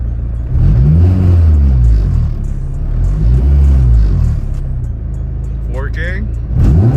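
A car exhaust on a tuned all-motor K20A3 Acura RSX Base revs up and settles repeatedly around 2000 rpm, a deep rumbling drone rising and falling close by.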